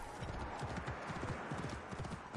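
Steady rhythmic clip-clop of horse hooves in the video game Assassin's Creed Origins, even and fairly close, against a soft background hiss.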